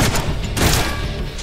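A rapid, dense fusillade from a gun in the Deadpool video game on PS3, set to perforate. The shots are loud and close, and they pour out continuously with no clear gaps.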